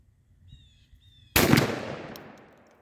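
A single loud shotgun blast from a shell loaded with 22 thirty-caliber pellets, fired outdoors after faint bird calls, with a sharp crack and a decaying echo.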